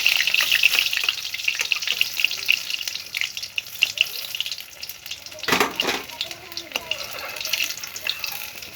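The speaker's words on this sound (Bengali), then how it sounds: "বড়াটা কিন্তু খুব ভালো হয়েছে ভাজা" Bora fritters fry in hot oil, a loud continuous close sizzle with a brief scrape or stir near the middle and no speech over it.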